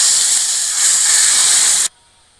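Hot ghee tempering with red chilli, asafoetida and Kashmiri chilli poured into fenugreek-leaf kadhi, giving a loud, steady steam-like sizzle for almost two seconds that then cuts off abruptly.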